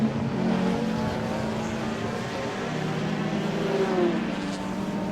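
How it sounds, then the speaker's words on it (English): Several classic touring race cars roar past at a distance at Cadwell Park, engines droning and echoing continuously through a small valley with shifting pitch, no voices. "Noise of these cars is just fantastic, echoing through the little valley here at Cadwell."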